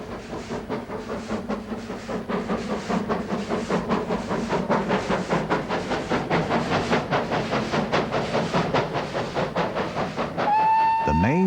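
GWR Castle Class steam locomotive 5066, Sir Felix Pole, with a flat-sided Hawksworth tender, passes with rapid rhythmic exhaust beats and rolling wheel noise building loud and close, then a sharp whistle near the end.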